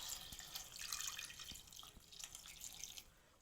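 Water trickles and splashes steadily into a pot of mango pieces for cooking, a soft continuous pour with light drips, close and fairly quiet.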